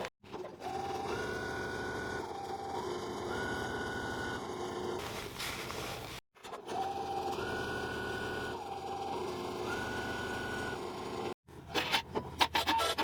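A sewing machine stitches a buttonhole with a rapid, even mechanical whir that rises and dips in pitch through the pattern. It runs in two long spells separated by brief stops, fairly faint and close.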